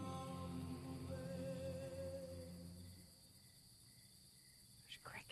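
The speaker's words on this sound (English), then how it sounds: "There's crickets." Crickets chirp faintly in a steady, high trill that thins out after a few seconds, with a brief rise of other sound near the end.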